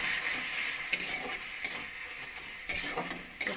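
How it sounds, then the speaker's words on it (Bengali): Ground spices sauté in a pan with a little water for a chickpea ghugni, giving a close hiss and sizzle broken by several sharp spoon scrapes and taps against the pan. "মশলাটা ভালো করে কষিয়ে নেব।"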